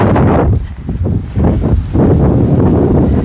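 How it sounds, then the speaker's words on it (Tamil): Strong wind on a Cypress Hills hilltop buffets the microphone in loud, rough gusts with brief lulls, a continuous roaring rumble across the short stretch. "காற்று சத்தம் எனக்கு தெரிஞ்சவங்களுக்கு போய் நல்லாவே கேட்கும்"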